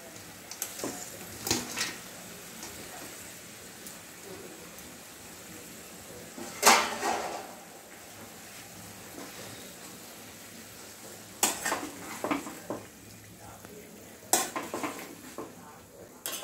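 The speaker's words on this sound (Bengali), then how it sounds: "এবার এই চিকেনের যে ফ্রাইড পিসেসগুলো সেগুলো অ্যাড করে দিচ্ছি।" Fried chicken pieces for chili chicken go into a pan and are stirred, with a low sizzle underneath and scattered clanks and scrapes of the utensil against the pan.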